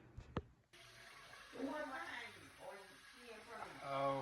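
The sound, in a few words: water running into pot for washing rice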